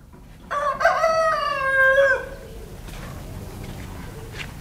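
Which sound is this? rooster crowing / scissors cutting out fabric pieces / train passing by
rooster crowing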